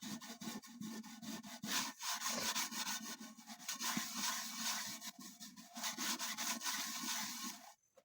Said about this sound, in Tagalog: Paulit-ulit natin i-kustos hanggang matanggal.